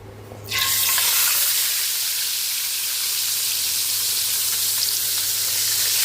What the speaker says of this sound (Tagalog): Salang na natin itong ating daing na bangus.